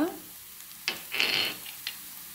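Grated garlic drops into onions frying in oil, producing a short burst of soft sizzling and a few light scrapes over a quiet background.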